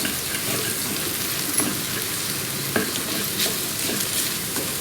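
Egg fried rice with two cooked eggs sizzling in a pan while being stirred, a constant close crackling fry with occasional scraping strokes of the spoon, no voices.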